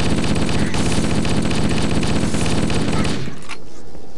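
Dense, rapid automatic gunfire in Halo: Combat Evolved, loud and continuous for about three seconds before cutting out, leaving a quieter tail of game noise.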